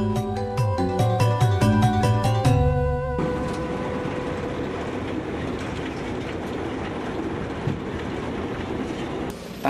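The Argo Gede train rumbles along the rails through mountains in West Java by day with a steady, loud roar, preceded by a few seconds of clattering, rhythmic tones.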